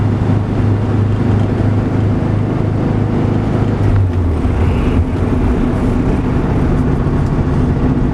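A 1965 Porsche 356C, off the road for a few years, runs on a test drive with the deck lid propped up, its engine giving a steady low drone amid road and wind noise with no talk.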